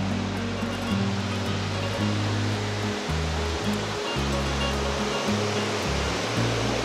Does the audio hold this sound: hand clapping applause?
no